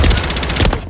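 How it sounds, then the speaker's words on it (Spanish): A rapid burst of video game gunfire, several loud shots fired in quick succession, close and sharp with no voices. "Dos tiros."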